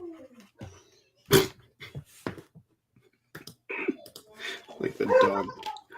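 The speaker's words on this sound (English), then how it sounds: "the dog was agreeing" A dog whimpers and whines in short bursts amid ongoing conversation, with people talking over and between the soft canine sounds.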